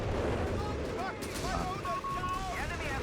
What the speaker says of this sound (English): Those AT guns firing at max range, that's what you want.